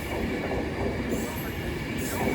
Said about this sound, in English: Soon to arriving now will be terminating Avanti West Coast service from Glasgow Central.